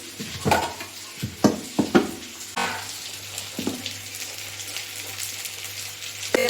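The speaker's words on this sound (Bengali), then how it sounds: "পোস্ত দেওয়া আছে, একটু ঘুরিয়ে নিই।" A pan of home-cooked vegetables with potatoes and poppy seeds is stirred, with several sharp scraping knocks of the spatula over a steady low sizzle, close and fairly loud with no talking.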